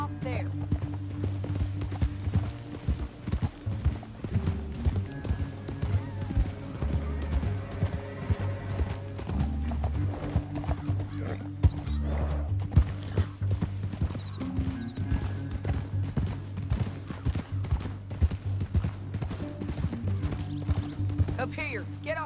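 Horse hooves clip-clopping steadily in Red Dead Redemption 2, a continuous rhythmic gait with occasional whinnies, heard under character dialogue and a low game backdrop.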